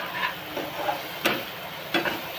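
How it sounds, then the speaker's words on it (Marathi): Chopped onion and tomato fry and get stirred in a pan, a soft continuous sizzle broken by a few sharp scraping stirs. "कांदा टोमॅटो चांगला भाजला आहे."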